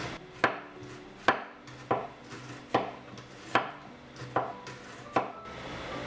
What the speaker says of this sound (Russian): Нарезаем немного перьями лучок.